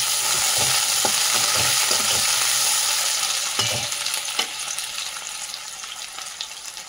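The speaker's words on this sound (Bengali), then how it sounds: "কালো জিরে, সামান্য পরিমাণে আলু দিয়ে দিলাম। কেটে রাখা আলুগুলো ছেড়ে দিলাম।" Cut potatoes and black cumin frying in a pan of oil, a steady loud sizzle with occasional stirring scrapes, gradually settling slightly quieter toward the end.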